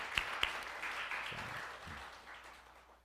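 A church congregation applauds to welcome visitors during a worship service, a broad wash of clapping that starts strongly with a few sharp claps and gradually fades over a few seconds.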